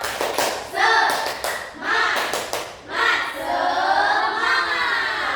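A class of students claps in a steady rhythmic pattern, bursts of hand claps repeating in short sets, with voices chanting along between the claps.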